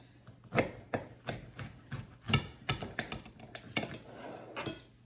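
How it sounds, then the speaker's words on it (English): A knife cuts through a hot, crunchy, thin cornbread, giving a series of sharp crisp crunches and taps on the board, about a dozen irregular cuts heard close and clear. "I'm going to slice this up, and that's super, super hot."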